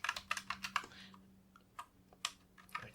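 Rapid clattering keystrokes on a computer keyboard come in a quick burst, pause, then resume in scattered taps, close and fairly soft over a faint steady hum.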